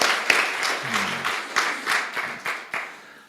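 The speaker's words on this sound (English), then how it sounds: "Clap whenever you want." Audience applause at a spiritual talk, a broad wash of clapping with sharper individual claps standing out, steady and moderately loud throughout, with a brief low murmur partway through.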